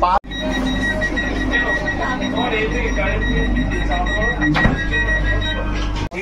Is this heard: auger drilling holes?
no